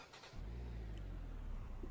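A Skoda car engine in Euro Truck Simulator 2 idles steadily with a low, even rumble after a brief quieter moment, fairly faint and continuous, no voices.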